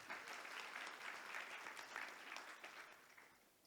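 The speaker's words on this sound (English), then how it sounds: "Please give them another round of applause." A conference audience claps for a panel after a plenary session, a dense, continuous rattle of applause that stays strong and then begins to fade toward the end.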